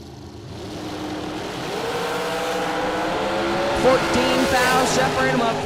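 Junior dragster at a drag strip making a run, a rising engine roar that climbs in pitch as it accelerates down the track, with a track announcer talking over it.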